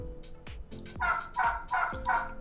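An AI-generated turkey sound effect: about five short, close gobbling calls in quick succession, the later ones louder and more throaty, heard on their own.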